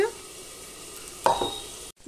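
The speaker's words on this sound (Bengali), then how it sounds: "এবার আমি ঢাকা দিয়ে আমি আলুটা ভালো করে ভেজে নেব" Potatoes fry in oil in a pan, sizzling steadily up close, with a stir and a scrape partway through and the sound cut off abruptly near the end as the lid goes on.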